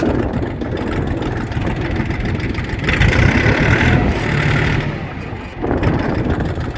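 A Kentavr 244SX mini tractor engine runs in second gear, a loud, close, continuous diesel drone that holds steady with slight swells in intensity.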